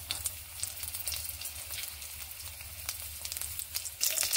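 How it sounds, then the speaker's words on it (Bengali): Nigella seeds and a green chili crackle and spit in hot oil while tempering, a close, steady sizzle with sharp pops throughout and no voices. "এবার এখানে একটুখানি কালো জিরে ফোড়ন দিচ্ছি।"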